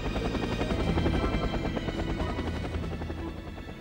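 Helicopter in a Superman video game, a loud steady whirring rotor drone that holds throughout and eases slightly toward the end, with no talking over it.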